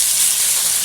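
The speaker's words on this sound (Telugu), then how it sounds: "ఉల్లిపాయ ముక్కలు వేసుకుందాం." Onion pieces dropped into hot oil give off a loud, steady, close sizzle for under a second.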